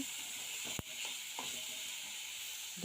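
Chopped chili sizzling in hot oil in a pan with chopped potato, a steady broadband fry hiss with a few brief clinks of a spatula, close and continuous.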